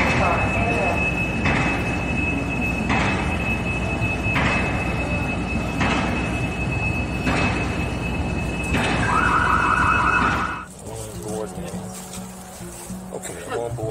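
A Pacific Surfliner train hauled by an SC-44 locomotive rolls past close by, with steady rhythmic wheel clatter over rail joints and a tonal whine, then the roar drops off abruptly.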